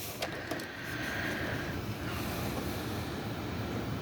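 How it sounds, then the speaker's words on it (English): A sewing machine stitches a line along a paper junk journal cover, a quiet, steady mechanical whirring and rattling that runs continuously for several seconds with a couple of faint clicks at the start, with no voices. "you can go ahead and throw another line of stitching right there to kind of help hold that edge down"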